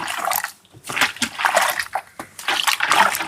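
Water poured and splashed into a bucket for washing kitchen items, a steady loud splashing and sloshing rush with brief pauses, close by.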